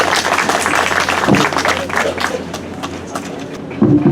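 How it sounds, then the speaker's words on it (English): Audience applause at a Department of Public Works and Highways ceremony for the final cement pour on Panguil Bay Bridge, a steady, dense clapping across the room that swells again near the end, with some background murmur. "A round of applause"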